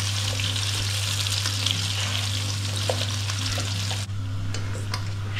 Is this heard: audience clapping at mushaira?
no